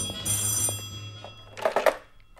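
A telephone bell rings in a short bright burst, followed by a soft thunk and a second, louder clattering ring, close and clear against a quiet background.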